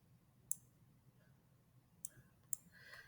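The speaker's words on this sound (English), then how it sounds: "So I'm going to switch that by clicking this button." Sharp computer mouse clicks, one near the half-second mark and two more a little later, faint and isolated over a quiet low hum, with no talking.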